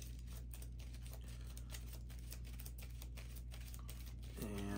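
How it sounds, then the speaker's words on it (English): A deck of Marvel Champions playing cards being shuffled, giving a steady soft riffling patter close by over a constant background hum, with no talking. "And shuffle up my very small amount of remaining cards."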